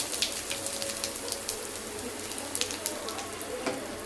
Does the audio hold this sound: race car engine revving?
no